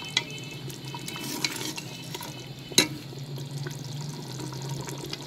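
Mutton liver and lungs stir-fried in a pan, heard as a steady low sizzle with scraping spoon strokes and a sharp clank of the utensil against the pan midway, close and unaccompanied by talk.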